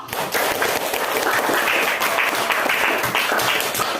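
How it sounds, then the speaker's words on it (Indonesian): A classroom of students claps for all the groups, a dense, steady burst of applause that fills the whole moment at close range with no talking over it. "Kemudian beri tepuk tangan untuk semua kelompok."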